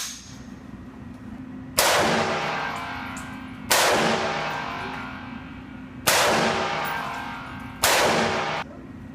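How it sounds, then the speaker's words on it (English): Four AR-15 rifle shots are fired at a target outdoors, each a sharp loud crack with a long ringing decay, spaced about two seconds apart. "Not bad for your first AR shots."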